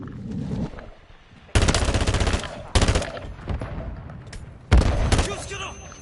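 Call of Duty Modern Warfare III gunfire: loud, close automatic bursts break out in several separate volleys, each a dense rattle of rapid shots, with quieter battle noise and voices in the gaps between.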